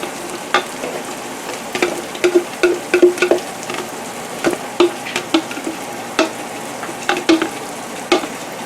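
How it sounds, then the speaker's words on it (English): Onions and garlic cook together in a crockpot, giving a steady soft sizzle with scattered sharp clicks and scrapes from stirring, close up and with no voices. "You want your onions and garlic to cook for a little bit together"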